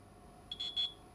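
Two short, high electronic beeps in quick succession from a multimeter set to auto, faint over a quiet background hum.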